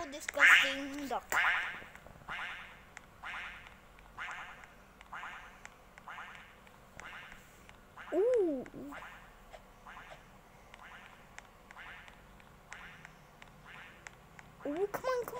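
Cartoon duck quacks in a Roblox obby game, several short squawky bursts spread across the stretch, with a child-like voice and game sounds around them.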